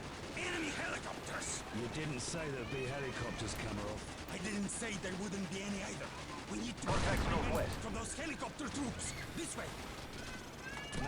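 Dense, continuous bursts of gunfire and mechanical clatter in the video game Call of Duty 4: Modern Warfare under overlapping voices, loud and busy throughout.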